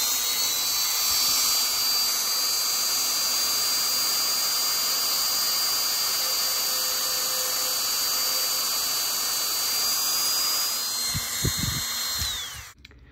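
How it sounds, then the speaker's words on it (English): A Dremel rotary tool drills into a hip piece with a sustained high-pitched whine held steady for about twelve seconds, close and loud, with a few scraping contacts before it winds down and stops. "I'm going to drill with the tip of the Dremel attachment into the hip."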